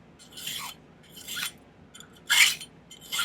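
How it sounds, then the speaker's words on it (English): Hand filing of a silver pendant produces rasping strokes, about five distinct scrapes at an irregular, unhurried pace, close and clear with quiet pauses between. "I'm going to do it by hand, I think, tonight. I kind of find filing soothing."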